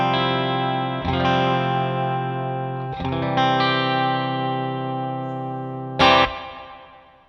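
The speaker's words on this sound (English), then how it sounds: "And here is the JHS Alpine." A clean electric guitar tone, played through a JHS Alpine reverb pedal into a speaker cabinet mic'd with a Sennheiser E906, strums three sustained chords and then a sharp final stab, each ringing out with a lingering reverb wash.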